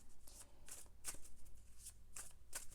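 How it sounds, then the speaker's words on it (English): Lenormand cards being shuffled in a quiet room: soft, brisk riffling swishes that repeat in quick clusters about every half second, close and faint, with no voices. "I have Lenormand cards here"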